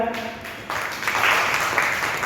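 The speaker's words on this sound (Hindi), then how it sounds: "अब सभी लोग ताली बजाएं" Brief burst of audience clapping at an honouring ceremony, swelling quickly into a dense crowd applause after a moment of background noise.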